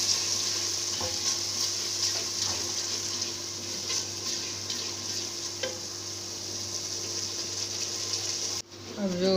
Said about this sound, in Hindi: अब जो प्याज है ये भुन चुकी है।